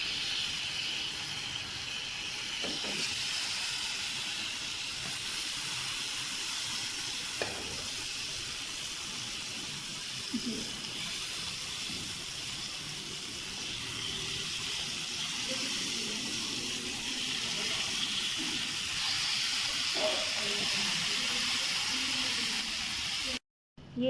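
Peri peri chicken wings sizzle on an oiled hot grill pan in a home kitchen, a steady soft hiss of frying with faint scattered pops and clinks.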